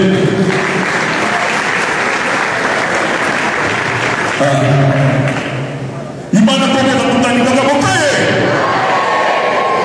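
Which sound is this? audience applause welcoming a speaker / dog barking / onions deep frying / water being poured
audience applause welcoming a speaker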